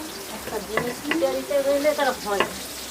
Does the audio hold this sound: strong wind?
no